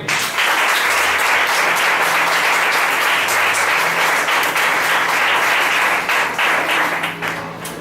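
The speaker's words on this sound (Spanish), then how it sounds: "Dale un aplauso al Señor." Church congregation bursts into loud, sustained applause during a service, many hands clapping in a dense roar that holds steady and then tapers slightly at the end, with faint tonal music underneath.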